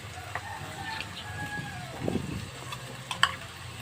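Corned beef dropped into a hot salted pan starts to sizzle at close range, a soft burst of frying with a few clinks and stirring sounds over a steady low kitchen hum.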